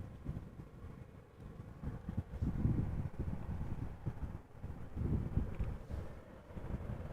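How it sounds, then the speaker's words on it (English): Wind at Amsterdam Schiphol Airport, blowing steadily from the south and not too hard, buffets the microphone in a low, continuous rumble that swells and eases in gusts, with no voices present. "Wind is blowing from the south, not too hard."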